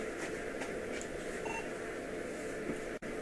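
Telephone keypad tones sound in a quiet room during an airport security screening, a few faint, evenly spaced beeps over a low background hum, with no voices.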